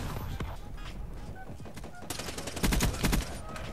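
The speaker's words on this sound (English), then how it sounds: "They're all shooting down my stuff." Video game gunfire, with rapid bursts of shots crackling in clusters, loudest near the end, over a steady game background with no talking.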